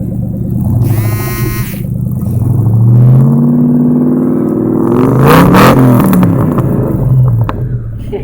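A 2003 Ford Mustang Mach 1 with a Magnaflow exhaust revs hard up close. Its deep, throaty V8 rumble climbs and falls through several loud sweeps with popping and crackling, following a brief rattle at the start.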